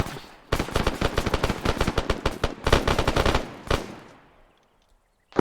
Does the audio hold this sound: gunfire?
yes